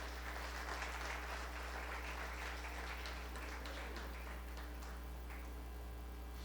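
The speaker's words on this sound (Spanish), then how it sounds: "Dale un fuerte aplauso al Señor" Faint applause from a church congregation, a thin scattered patter of clapping over a steady low hum, fairly distant and quiet throughout.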